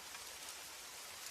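Rain falls in a steady, soft hiss with no distinct drops, low and even throughout, with nothing else heard.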